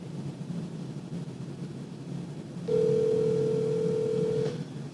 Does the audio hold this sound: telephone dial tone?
yes